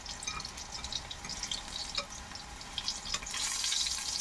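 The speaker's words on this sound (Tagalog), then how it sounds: "Kasi tumatalsik yung mga mga mantika." Oil splattering and sizzling while food fries in a pan, a faint steady crackle with scattered pops and small spits that grow a bit busier toward the end.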